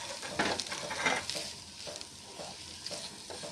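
Coriander, pepper and garam masala powders sautéed in a hot pan, a close, continuous sizzle broken by quick scraping stirs, with no voices.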